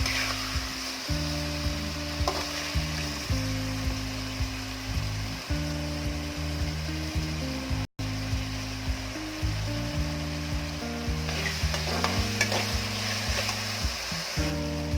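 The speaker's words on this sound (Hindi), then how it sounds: "और टमाटर को अच्छे से पकने तक पकाएंगे, गलने तक पकाएंगे।" Tomatoes cooking in a pan until soft: a soft, steady sizzle sits beneath a loud, rhythmic, tonal background pattern, with a brief dropout midway and no voices.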